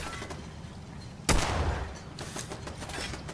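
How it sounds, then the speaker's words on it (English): A sudden loud burst of flaming-bullet gunfire in Fallout 4 cuts through a quiet background, then trails off into scattered fainter shots and rumble. "flaming bullets"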